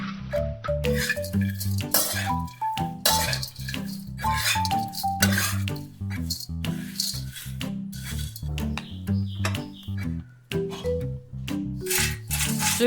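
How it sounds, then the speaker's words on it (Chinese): A spatula scrapes and clinks against a pan while salted egg corn flakes are stir-fried with roasted peanuts, giving a busy run of irregular metallic taps and rustling with no talk. "先大约翻炒给它均匀，然后才开中小火继续翻炒到完全均"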